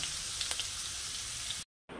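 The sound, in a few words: potatoes frying in oil in a pan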